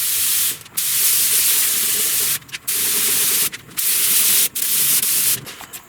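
Sanding a primed truck cowl panel on a 1969 Chevrolet C10, a loud steady abrasive hiss in long strokes broken by brief pauses, with no talking.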